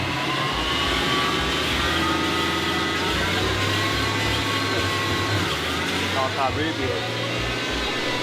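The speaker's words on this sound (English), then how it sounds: "We've not got to figure out what it is yet, but listen. She's got a little bit of a whine to her." A rebuilt BMW M3 running with a thin, steady whine from its transmission riding over a loud, continuous drivetrain drone, with a faint voice partly mixed in.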